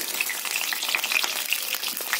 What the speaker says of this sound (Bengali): তেল গরম হয়ে গেছে, পটলগুলো দিয়ে নেব,